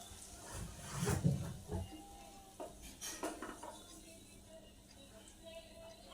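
Spice water being stirred in a cooking pot while making ilish vapa, a Bengali steamed hilsa dish, with a few clinks of a metal spoon against the pot early on, then quieter soft scraping at close range.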